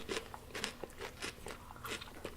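A crunchy pickle is bitten and chewed close up in a quick series of crisp crunches, faint and rhythmic.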